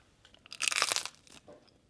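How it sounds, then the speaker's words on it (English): A loud, close crunch bursts out in the middle, a dense crackling bite-like sound lasting about half a second, with faint quieter crunches after it. "That crunch was crazy."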